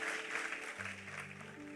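A church congregation applauds in a faint, even patter of clapping, with low sustained musical tones coming in partway through.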